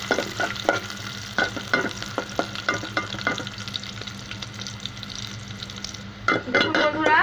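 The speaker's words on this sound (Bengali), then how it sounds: "পেঁয়াজটা ভালো করে ভেজে নেব।" Chopped onion sizzles in a hot pan for a prawn and okra curry, with quick rhythmic stirring clatters early on, then a steadier fry and a final flurry of scraping, all without speech.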